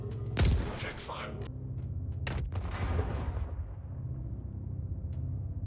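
Ground-fired missiles in a space combat video game launch with a sharp loud blast followed by rumbling bursts and booms, under speech.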